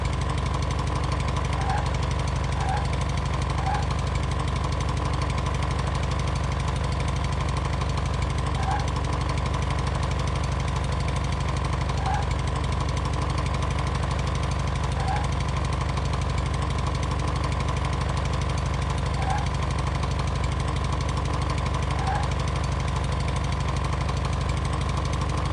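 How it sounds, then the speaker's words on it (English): A yellow truck's small two-stroke engine in the video game Outbreak Island, running with a constant buzzy, thin drone like a leaf blower, loud and unchanging, with faint periodic clicks over it. "The yellow truck sounds like it has a leaf blower for an engine."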